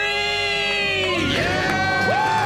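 A small crowd screams and cheers in celebration of paying off debt, a loud burst of high whoops and shouts with rising, sliding voices close up.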